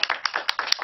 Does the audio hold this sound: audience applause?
yes